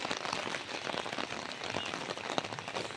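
Rain falls steadily during a windy storm, a dense, even patter on surfaces heard close and alone for the whole stretch.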